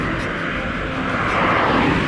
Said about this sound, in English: Oh, bloody jet landing.